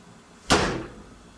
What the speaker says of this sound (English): That was my garage door getting closed.